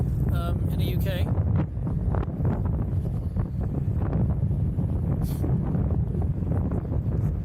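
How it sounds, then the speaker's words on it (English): Steady wind buffeting a microphone outdoors on a city street in Bristol, a loud continuous rumble with gusts filling the whole clip. "So yeah, it is quite windy"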